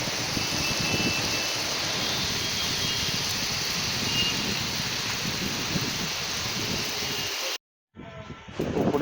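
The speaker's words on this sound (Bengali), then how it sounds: "এখন বৃষ্টি হচ্ছে আবার।" Steady rain pours down outdoors at a work site, a dense continuous hiss of drops on surfaces, loud and close. It cuts out briefly near the end and then returns.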